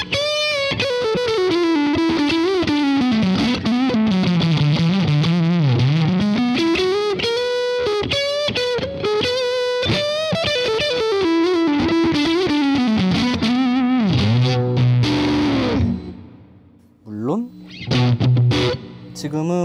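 Loud, sustained electric guitar through a Vemuram Landau distortion pedal playing chords and bends, saturated and fuzzy, trailing off into a few quieter notes at the end.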